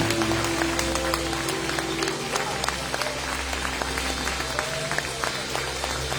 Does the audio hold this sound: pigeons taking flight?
no